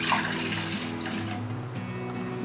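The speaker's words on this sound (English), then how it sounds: "Adding 1 cup of water." One cup of water pours into a pot for making tea with milk powder, a short, steady splashing rush of liquid heard up close.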